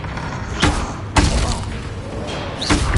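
Capulso spell casts in a video game: three sharp, forceful whooshing thumps spaced a second or more apart over a low, steady game ambience.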